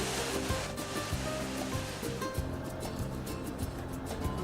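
Waves and autumn swell on Lake Baikal: a dense, steady roar of water breaking and washing close by, continuous throughout with no voices.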